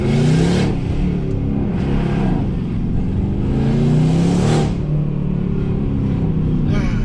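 A tuned, straight-piped AMG C63s with catless downpipes revs hard from the cabin during a drive, its loud engine roar rising and falling in two main surges with a steady drone between.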